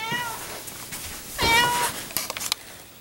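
A pet cat meows indoors, two drawn-out meows followed by a few soft chirps and rustles, close to the microphone, with no talking.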